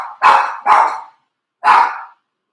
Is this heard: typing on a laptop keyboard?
no